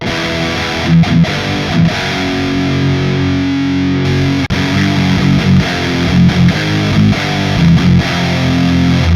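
Heavily overdriven electric guitar through a Tube Screamer pedal playing dense, saturated chords with a thick fuzzy edge, loud and continuous, with a brief dropout midway.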